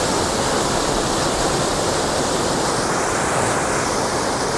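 Strong irrigation water rushes steadily through a canal gate in an NIA irrigation zone, a loud, continuous broadband roar of turbulent flow close by with no talking.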